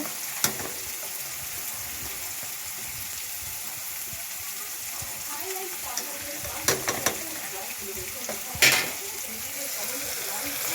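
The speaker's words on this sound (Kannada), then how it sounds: "ನೋಡಿ ಹಪ್ಪಳ ಕರಿತಾ ಇದ್ದೀನಿ ಇವಾಗ" Papad frying in hot oil during home cooking for a festival meal, a steady soft sizzle with occasional sharper crackles and clinks, moderately close and not loud.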